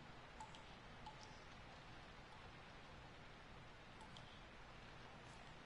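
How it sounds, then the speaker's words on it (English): Steady, even rainfall hisses throughout in the video game P.T., with a few faint ticks of dripping water scattered on top; no voices. "All I hear is rain and a water dripping."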